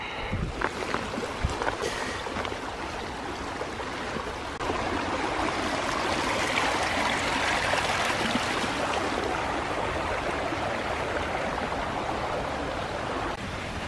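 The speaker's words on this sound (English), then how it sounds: "I see a pretty neat looking waterfall in front of me." Rushing stream and waterfall swollen by heavy overnight rain in Iroquois Park, a steady loud broadband roar of running water that continues without pause, close by, with no talking.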